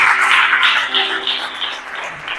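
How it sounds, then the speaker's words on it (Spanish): Applause from a congregation at a Spanish-language church service fills the clip: dense, steady clapping, loud and close, running the whole two seconds with no pauses and no speech over it. "Venga, dale un aplauso fuerte al Espíritu Santo."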